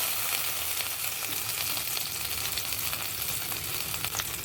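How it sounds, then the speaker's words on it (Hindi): Potatoes frying in plenty of hot oil in a pan for an aloo beans curry, a steady close crackling sizzle with no talk throughout. "थोड़ा गोल्डन ब्राउन सा होने तक फ्राई करेंगे"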